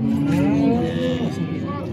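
A cow at a livestock market lets out a long, loud moo that wavers and fades, with faint outdoor background noise.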